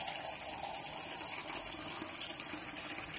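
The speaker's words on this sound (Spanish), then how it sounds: "Voy a echarle más agua." Water pours steadily into a cooking pot of simmering stew, a continuous close hissing splash with no talk over it.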